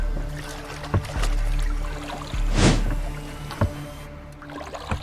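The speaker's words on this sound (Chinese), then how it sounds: "给咱们李帆兄弟放小船。" A small boat drops onto open sea water, a soft splash and churning swell building to one brief surge, then settling with faint knocks and sloshing.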